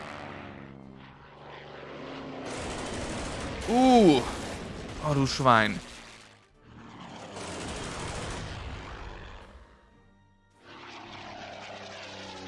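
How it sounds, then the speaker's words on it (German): A wave of warplane engines in the Panzer Corps Gold strategy game swells and fades as rough propeller drones in several passes, with someone speaking and exclaiming over the noise at moderate volume. "Ich habe ehrlich gesagt nicht mit noch direkt wieder einer Welle Flugzeugen gerechnet"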